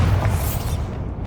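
A Bombarda blasting spell detonates in Hogwarts Legacy, a loud, deep booming explosion with a heavy rumbling low end that sustains briefly and then fades.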